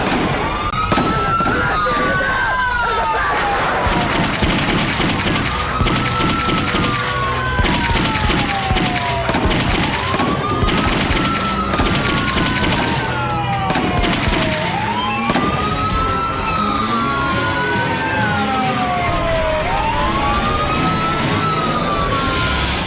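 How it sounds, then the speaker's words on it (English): Gunfire in a police shootout as a hostage-taking gunman in an SUV fires on officers, with sharp repeated shots mixed under loud, continuously wailing police sirens and some voices. "brazenly firing more rounds at officers"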